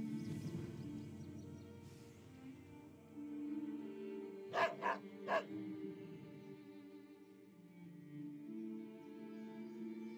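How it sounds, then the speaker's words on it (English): A dog in the World of Warcraft game barks a few quick times in the middle, set against a steady, sustained musical game soundtrack; the eating sounds are not distinct. "As soon as you throw it down, the dog starts eating ravenously."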